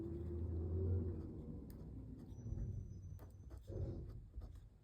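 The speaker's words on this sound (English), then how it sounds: "There's the garbage truck." Garbage truck rumbles past outside, a low heavy engine drone loudest at the start then fading, faint and muffled with a few clicks and rattles nearby.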